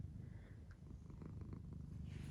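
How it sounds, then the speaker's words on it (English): Two cats purr together in a bed, a close, low rumbling drone that continues steadily and softly with no talking. "I just want to document that I have 2 purring cats in my bed."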